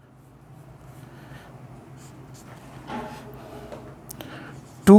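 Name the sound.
writing a question on a board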